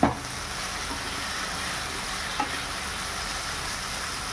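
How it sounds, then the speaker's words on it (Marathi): Capsicum fries over a high flame, giving a steady, close, even sizzle throughout with a small clink near the start and another midway. "आता मी हाय फ्लेमवर ही कॅप्सिकम कुक करून घेत आहे."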